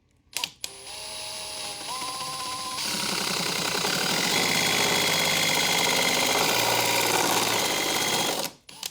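A power drill whirs steadily, its motor pitch rising and falling as a countersink bit grinds into wood, loud and close, with brief clicks at start and end.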